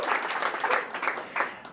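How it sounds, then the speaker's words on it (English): Applause from an audience at a Google for Startups Cloud AI Accelerator demo day, a steady, dense patter of many hands clapping for the full stretch with no speech over it. "Let's give a big round of applause for everyone that's here today."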